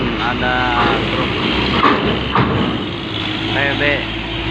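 A heavy diesel truck rumbles while boarding a ship, a low engine drone with people talking over it and a few brief horn-like tones.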